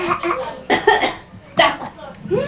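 A small child imitates a woman's cough with a few short, breathy coughing bursts spaced out over a couple of seconds, close and fairly loud, with some vocal sounds between.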